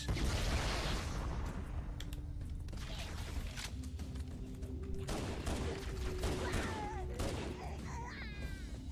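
Pistol fire in Halo: Combat Evolved, part of a dense, continuous firefight with clanking mechanisms and scattered booms throughout.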